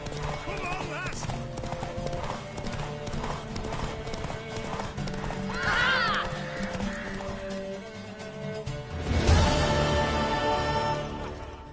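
A horse gallops in The Witcher 3 game, fast rhythmic hoofbeats under loud urging voices and music, with neighing and a final burst of excited shouting near the end.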